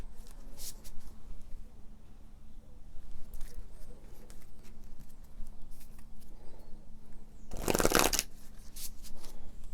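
Pick-a-card oracle cards being shuffled by hand in a quiet indoor setting, with soft scattered riffles and a louder burst of shuffling near the end.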